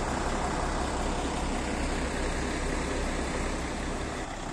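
An intercity bus pulls out of the Montes Claros bus station at night, a steady, loud, broadband engine rumble with road noise that holds evenly throughout without talk.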